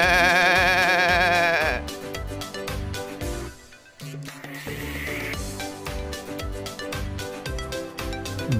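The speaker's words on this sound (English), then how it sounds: "Goat." Goat bleating in repeated wavering cries, loud and close, alone without talk.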